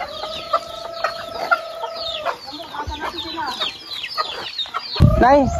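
Chickens cluck repeatedly nearby in short bursts, with a few louder squawks toward the end and faint background activity.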